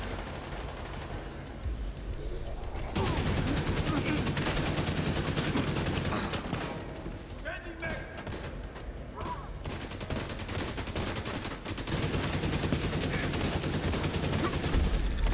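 Marksman rifle fire in a video game cracks out in dense, rapid bursts with short pauses, loud and close, mixed with game effects.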